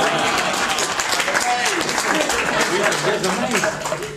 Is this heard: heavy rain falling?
no